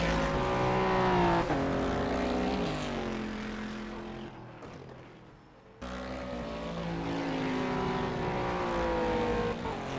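A race car in a sim racing game at Bahrain accelerates out of the pit lane, its engine note climbing through several gear shifts, briefly dropping away midway, then surging and rising again.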